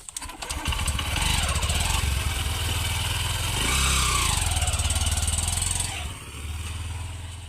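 A motorcycle engine runs loudly nearby, revving up and settling back with a rough, buzzing drone; no one speaks.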